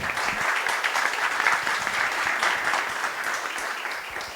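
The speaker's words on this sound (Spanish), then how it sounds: "Un aplauso para Ivette, por favor." Audience at a Nikkei young art salon catalogue presentation applauds, a full, even patter of many hands clapping continuously at close range, fading slightly toward the end.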